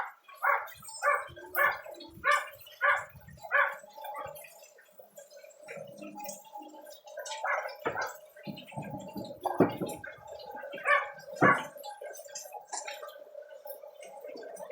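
Several dogs bark in a burst of evenly spaced barks at the start, then scattered barks and yelps continue over a steady ticking or dripping background, fairly close.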